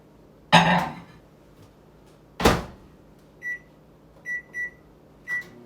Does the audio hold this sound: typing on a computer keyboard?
no